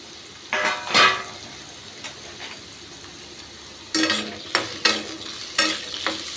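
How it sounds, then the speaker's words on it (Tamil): Peeled, chopped ginger sautéing in a pan for chutney: a steady low sizzle broken by a few bursts of stirring and sharp clinks of the spatula against the pan, no talk. "இதை நம்ம வதக்கிக்கணும்."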